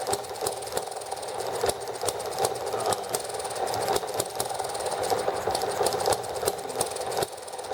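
A small engine with its needle valve tuned runs steadily at high revs, a buzzy, rattling drone that holds constant close to the microphone throughout.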